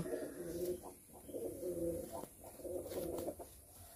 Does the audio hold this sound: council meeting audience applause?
no